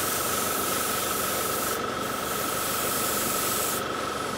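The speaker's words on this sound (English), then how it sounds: "just make sure that your airbrush is situated right on top of the mask. Go for a bit of a wet coat" An airbrush sprays a wet coat of paint onto an anime garage kit figure, a steady, close, unbroken hiss of compressed air, with two brief changes in tone partway through.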